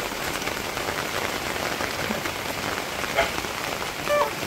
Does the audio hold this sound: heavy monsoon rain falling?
yes